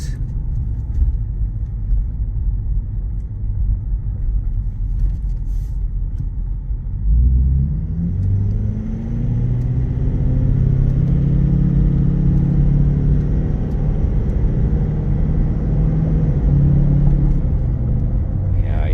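A 2016 Ford F-250 Super Duty pickup engine drones steadily while driving, with low rumble and rising-then-settling pitch as it shifts smoothly through gears, fairly loud and close.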